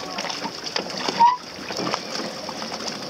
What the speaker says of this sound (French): Qu'est-ce qui fait des vagues comme ça?